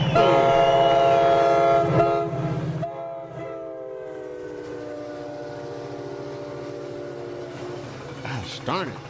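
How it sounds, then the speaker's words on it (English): An alert for a livestream hype train plays a loud, sustained train horn blast, followed by fading train rumble and clatter, and a voice calls out briefly near the end. "hype train inbound"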